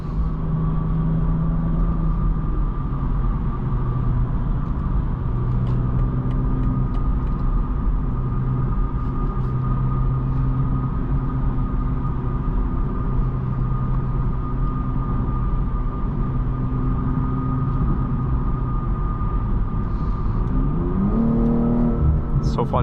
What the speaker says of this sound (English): It's so fun just putting your foot down. Acceleration's phenomenal.